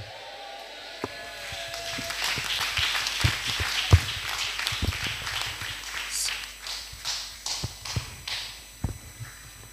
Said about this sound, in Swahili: Ongeza makofi kwa Bwana Yesu